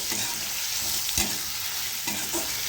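Vegetables with Schezwan chutney and red chilli sauce being mixed and cooked in a pan for tricolour pulao, a continuous sizzle with a few spoon clacks and scrapes.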